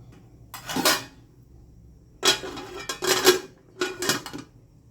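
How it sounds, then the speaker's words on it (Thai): A metal lid clanks onto a cooking pot of fish curry with pickled bamboo shoots. There are several sharp metallic clatters in separate bursts, close and fairly loud, with no talk. "เดี๋ยวปิดฝาให้หม้อมันเดือดก่อนนะจ๊ะเนาะ"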